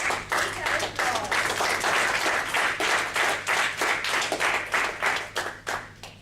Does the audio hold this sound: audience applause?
yes